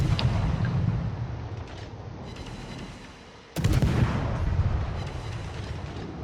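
Battleship naval guns fire in World of Warships, a loud deep boom over a low rumbling background, then a second heavy blast halfway through that rolls on and fades slowly.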